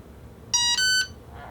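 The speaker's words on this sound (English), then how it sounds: "We're going to wait for 2 beeps." An electronic speed controller on a Bloody Baron RC model plane emits two clear, loud, tonal beeps in quick succession during throttle calibration, with a quiet background.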